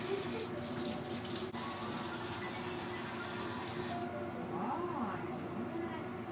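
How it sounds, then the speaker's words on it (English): A kitchen faucet runs steadily during handwashing, a soft continuous hiss of water into a sink that thins out toward the end. "First, we're gonna wash our hands."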